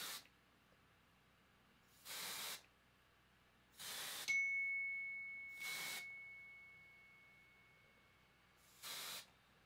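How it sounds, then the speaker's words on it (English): Spray-on hair color sprayed onto hair in four short hissing bursts, close and crisp with pauses between, plus a brief high electronic tone partway through; no talking. "spray it on your hair like that."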